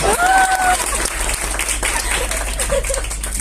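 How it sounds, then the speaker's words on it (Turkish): A crowd gives steady applause, dense clapping throughout with a brief whistle-like tone early on. "alkış alkış"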